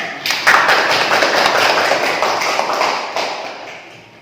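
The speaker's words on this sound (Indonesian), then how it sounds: "Beri tepuk tangan untuk semuanya." Students in a classroom clapping, a burst of close, loud hand claps that swells quickly and then tapers off.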